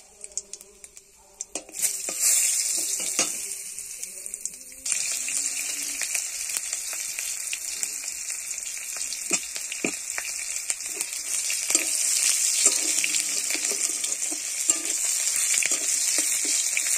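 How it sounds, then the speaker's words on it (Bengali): Spices and garlic tempering in hot oil in a wok for a fish curry with elephant foot yam, a steady close sizzle that bursts in loudly after a quiet start and keeps crackling with occasional stirring clatter. "ঢেলে নিয়েছি কড়াইতে, এবার ফোড়ন দিয়ে দেবো।"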